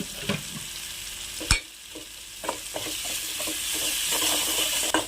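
Masala for cauliflower fry sizzles steadily in a pan while a spoon stirs through it, with several sharp scraping knocks against the metal scattered over the hiss.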